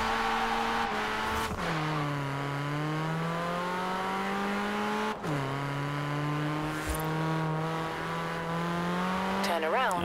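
A Mini convertible's engine drones and revs steadily through a race in Forza Horizon 4, pitch rising and dropping sharply at gear shifts, loud and constant with a brief tire squeal near the end.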